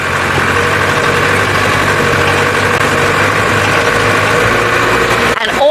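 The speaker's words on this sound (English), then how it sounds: "off-road drive in the dark" A vehicle engine idles and rumbles steadily on an off-road drive in the dark, a loud low drone close by, ending in a brief clatter.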